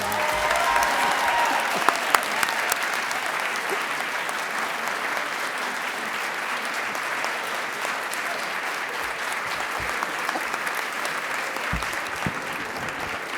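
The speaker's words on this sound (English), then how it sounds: "please join me in a round of applause" A large audience applauds steadily for the whole stretch, a dense, sustained wash of clapping with no talking over it.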